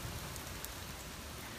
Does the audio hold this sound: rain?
yes